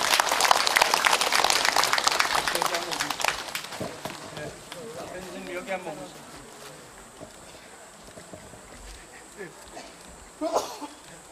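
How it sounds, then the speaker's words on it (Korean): Crowd applause at a Korean Buddhist eye-opening consecration ceremony for a reclining Buddha statue, loud and dense for about four seconds, then thinning into scattered claps and murmuring voices, with a brief burst near the end. "큰 박수 부탁드립니다."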